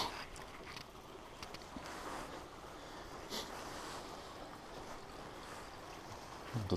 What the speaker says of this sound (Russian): Пещера образовала вот этот вот ручей.